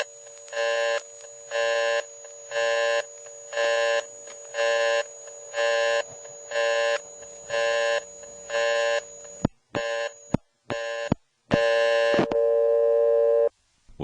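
A GTE step-by-step telephone exchange plays its tones after a call is cut off from the toll network: a regular series of evenly spaced buzzing beeps, then sharp switching clicks and a final sustained tone.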